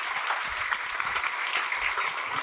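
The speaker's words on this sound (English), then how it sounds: "But I think, Liesbet, you need a very, very big hand, very big applause, because I think you did a fantastic job." A large conference audience applauds warmly during the welcome session of a European health-data science symposium: dense, steady clapping that fills the room for the whole stretch, with no talk over it.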